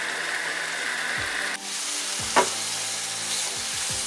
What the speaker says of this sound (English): stir it a couple more minutes